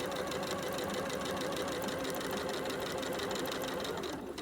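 A sewing machine runs continuously, stitching quilt pillow fabric along a straight line, a steady, even whirring rattle that stays close and constant, easing off only at the very end.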